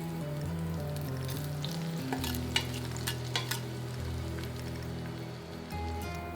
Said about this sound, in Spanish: Empezamos dorando los ajos 1 minuto.